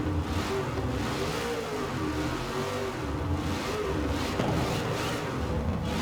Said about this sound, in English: That backfire sounds so good in this thing.